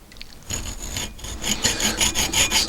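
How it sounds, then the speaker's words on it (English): A hacksaw saws across a length of scrap copper water pipe clamped in a vise, a steady rasping cut with repeated back-and-forth strokes growing louder and close up. "and then hacksaw across its length"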